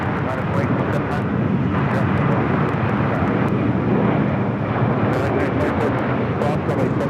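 An Air France airliner takes off at LAX airport: a loud, steady roar of jet engines fills the scene, rumbling and wind-buffeted, with a voice talking over it.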